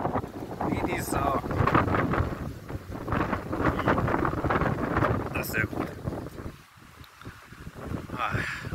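Gusty wind buffets the microphone outdoors on a blustery day while a man walks toward a classic car meet, a rough low rumble running steadily through the clip under his ongoing talk, easing briefly near the end.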